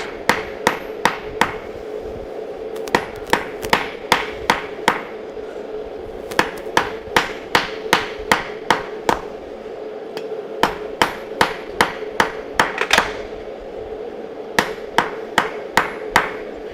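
A blacksmith hammers hot steel at a forge, sharp ringing metallic strikes in quick rhythmic bursts with short pauses between runs, close and clear over a low steady hum, no talking.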